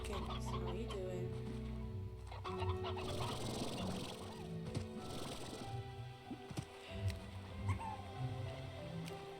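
Chickens clucking in the Slime Rancher video game, short tonal calls scattered over a steady layer of game music and ambience, with someone talking over them.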